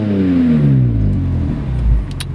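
A 2006 BMW M3 convertible with a custom Magnaflow straight-pipe exhaust revs loudly up and back down, a rising and falling engine roar close by with no talk.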